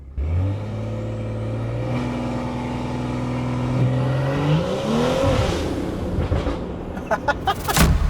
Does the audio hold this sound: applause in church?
no